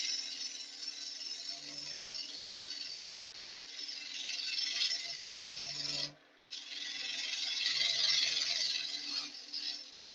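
A hand saw cuts a wooden tenon for a wooden handbag, giving a steady rasping, rubbing stroke sound that carries on almost continuously with one short pause, close and moderately loud.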